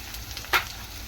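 Green onions go into a pan with green garlic for a Kathiyawadi eggplant bharthu, making a faint, soft sizzle with one brief louder crackle midway.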